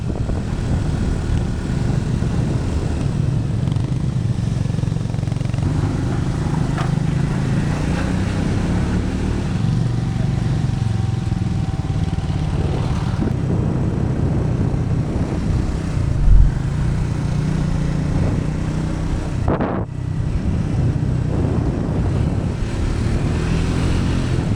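Triumph Speed 400 motorcycle riding a winding ghat road toward Kodaikanal, its engine a steady, continuous drone with wind rush close to the mic, holding even throughout with no talk.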